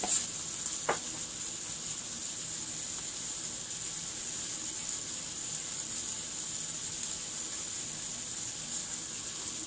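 Mixed vegetables fry in a pan with a steady, close sizzling hiss that runs throughout, with a couple of small clicks near the start and no talking.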